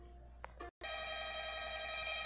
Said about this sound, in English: Wait, Junior's ringing